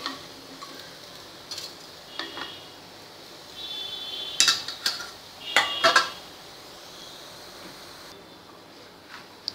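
Kothimbir bajri muthiya are lifted from a pan onto a plate, with scattered metallic clinks and scrapes of a utensil against cookware, a few sharper taps clustered in the middle over a quiet kitchen background.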